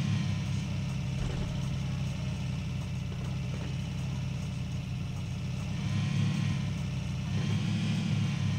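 PUBG car engine droning steadily while driving, a low, even rumble that holds throughout with slight swells and no talking.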